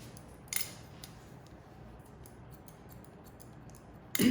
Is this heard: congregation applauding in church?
no